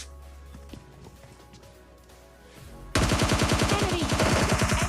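In PUBG Lite gameplay, a quiet stretch gives way to a loud, rapid burst of automatic gunfire, dense repeated shots lasting about two seconds.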